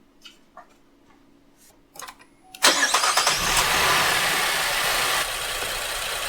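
A car engine with a slight misfire cranks and catches after a few quiet ticks and clicks, then settles into a loud, steady idle close by, the level dropping a little after a few seconds.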